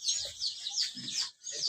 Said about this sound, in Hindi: ये देखिए बड़ा वाला मुर्गा इधर है।